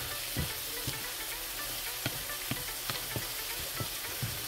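Eggs cooking with tomato sauce in a pan for a Salvadoran breakfast give a steady, soft sizzle, with faint scraping stir clicks at irregular intervals and no talking.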